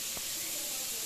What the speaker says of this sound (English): My shower is steaming, okay?